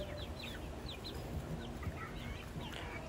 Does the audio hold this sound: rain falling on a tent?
no